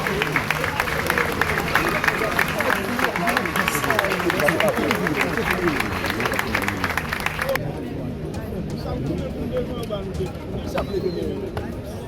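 Audience applause at a police academy graduation ceremony, with dense, sustained clapping from a large crowd and background chatter mixed in throughout.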